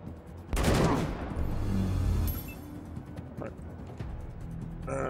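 Gunfire in Wasteland 3, a loud burst of shots followed by a sustained rumbling fusillade and fading battle noise, with scattered fainter impacts afterward.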